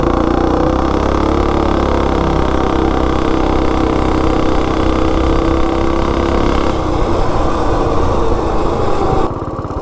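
Coleman RSV 196 mini bike engine pulling hard from 0 to 30 in a drag run, a loud buzzing small single-cylinder roar, steady and close, that climbs in pitch and then cuts back near the end.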